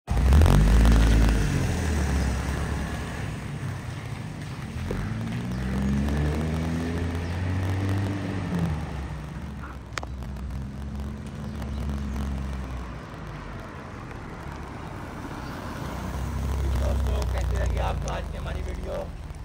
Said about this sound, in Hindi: आपको ड्राइव भी दिखाते हैं इस गाड़ी की, ये बहुत ही ज़्यादा भागती है गाड़ी।